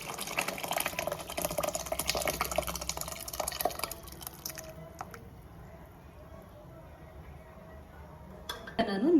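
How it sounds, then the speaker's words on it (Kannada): Water is poured into a pot of South Indian okra sambar with dal, splashing and gurgling for a few seconds before fading to a quiet simmer, with faint voices in the background. "ನಾನು ನೀರು ಹಾಕ್ತಾ ಇದ್ದೀನಿ."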